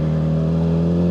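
A Kawasaki ZX6R motorcycle engine fitted with a Yoshimura full header exhaust holds a steady, loud tonal drone with strong harmonic bands, sounding close and alone without any voices.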